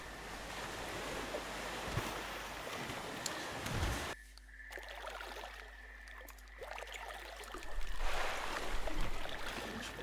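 Raft drifting down a river in the video game The Flame in the Flood, with steady rushing water and wind-like wash that drops out briefly midway before the surging flow returns louder.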